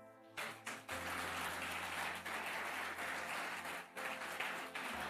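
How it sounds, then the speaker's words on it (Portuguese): A church congregation breaks into applause during a sermon, dense sustained clapping that swells quickly after a brief moment of organ or keyboard tone and carries on loudly to the end. "Aplauda o Senhor Jesus."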